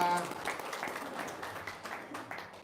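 Brief, faint applause from an audience at a testimonial gathering, a light scatter of clapping heard somewhat distantly for a couple of seconds.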